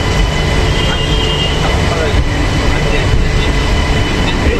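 A crowded local train pulls out of platform 5 at Barasat station with a loud, steady rumble of wheels and carriage noise filling the whole stretch, rolling on with faint squeals.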